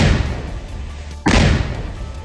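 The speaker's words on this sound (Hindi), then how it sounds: "ये धमाका आतंकी आसिफ के घर में हुआ" A single loud blast goes off as army troops demolish a house with explosives in Kashmir. The deep boom hits suddenly after a stretch of background noise, then a heavy rumbling tail lingers.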